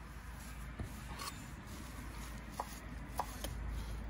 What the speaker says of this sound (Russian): я нарежу быстренько петрушку